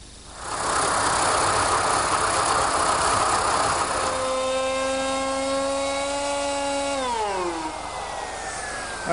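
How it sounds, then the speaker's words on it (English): A router fitted with a 3/4 inch radius bit runs loud and close, whining steadily as it eases the front edge of a wooden rocking chair seat, then spins down with a falling pitch. "Now here I'm using a 3/4 inch radius router bit to ease the front of the seat."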